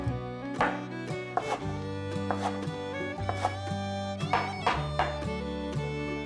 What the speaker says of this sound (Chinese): 这里的金针菇切碎